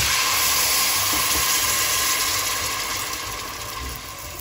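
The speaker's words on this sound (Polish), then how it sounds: "dodajemy troszeczkę białego wina" White wine poured into hot fat in a pan, giving a loud rushing hiss and bubbling steam close by that slowly fades over a few seconds.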